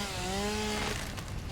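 A chainsaw cuts into a tree in Satisfactory, a loud, steady motor whine that bogs down slightly as it bites, brief and close.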